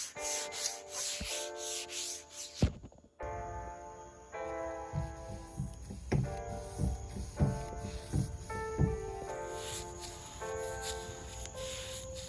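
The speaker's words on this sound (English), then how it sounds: "I made sure to sand smooth in between coats." A painted wooden dresser is sanded smooth between coats of paint, with repeated close, rhythmic rasping strokes and a brief pause early on.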